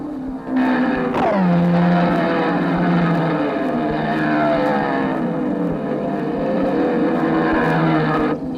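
Vintage racing engines roar loudly and continuously through the whole stretch, with a sharp rise and fall as a machine passes on the inside early on and steady engine drone afterward.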